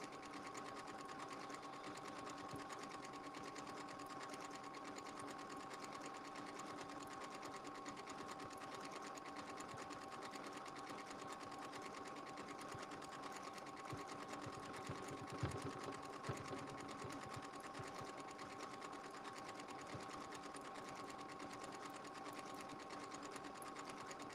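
A sewing machine runs in one long steady burst, stitching around the outer edge of fusible fleece on a Valentine's Day project, a constant close mechanical whir that carries on unbroken.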